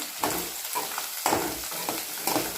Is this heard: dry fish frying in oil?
yes